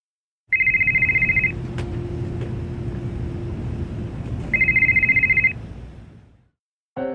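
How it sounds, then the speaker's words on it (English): A telephone rings in an old-style two-tone trill, two loud ringing bursts about four seconds apart over a low steady hum, followed by a brief click and the start of another ring. "It starts with a phone call."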